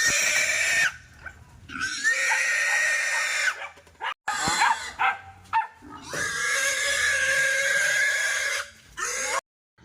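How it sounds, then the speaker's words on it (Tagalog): A pig being weighed at a lechon shop squeals and oinks loudly in long, harsh bursts, broken by short gaps and scuffling, with no talk over it. "At ito yung pangalawang baboy natin, Suki Loves. Nasa 55 kilos."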